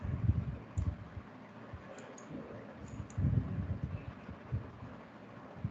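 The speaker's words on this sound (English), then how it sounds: "I'm just typing." Quiet typing on a computer keyboard: soft, irregular clicks and muffled thumps in a few loose bursts, close to the microphone, with no talking.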